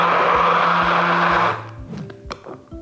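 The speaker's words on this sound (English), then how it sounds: "So I'm going to add in a little bit of hot water. And just pour that in and then blitz it again." A blender runs loud and steady for about a second and a half as it whips mayonnaise thinned with hot water, then cuts off, leaving faint clinks and small handling noises.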